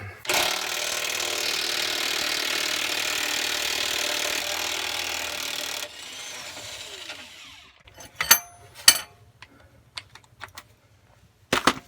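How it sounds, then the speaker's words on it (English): An 18mm impact wrench with a 3/4 socket hammers at a bolt while torsion bar mounts are replaced under a truck. A loud, rapid rattling burst runs about five seconds, then scattered metallic clinks and knocks follow. "Got my 18mm impact."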